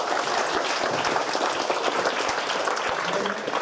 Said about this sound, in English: let's give a round of applause for that team